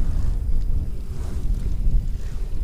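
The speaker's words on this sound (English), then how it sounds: "we're starting to get a little bit of wind now, about 10 miles an hour" Soft wind of roughly five to ten miles an hour blowing across open water from a fishing boat, a steady low rumble of wind buffeting with faint wash throughout, no talking.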